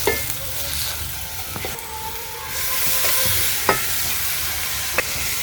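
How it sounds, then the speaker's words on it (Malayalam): Tomatoes and salt are stirred in a hot pan, a close, steady sizzle with occasional sharp scrapes of the spoon against the metal. "തക്കാളിയും കൂടെ ആഡ് ചെയ്തിട്ടുണ്ട് ആവശ്യത്തിനുള്ള ഉപ്പ് ഒന്ന് ഇളക്കി കൊടുക്കുക"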